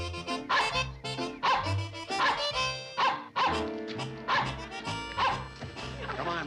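Dog barks and yips in a rapid, loud series of excited bow-wows that keep coming throughout, close and clear, with a voice briefly mixed in.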